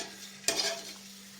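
A drop of pitha batter hits hot oil as a test: after a moment of low hum, a sudden sharp sizzle bursts up and then fades quickly into a softer fizz, close and solitary.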